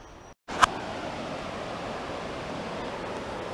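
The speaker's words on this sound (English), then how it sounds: "Looks like there's some rapids up there and some rapids down there" Steady broadband rush of river rapids in Linville Gorge, loud and continuous after a brief drop-out and a short sharp knock near the start, with no voices.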